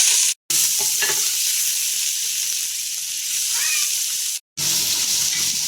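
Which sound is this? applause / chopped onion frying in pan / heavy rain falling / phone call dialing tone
chopped onion frying in pan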